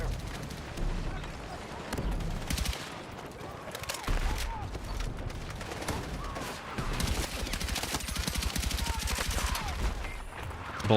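Dense, continuous automatic gunfire fills a Battlefield 6 firefight, with overlapping bursts and heavy shots layered with blasts from start to finish, loud and close throughout.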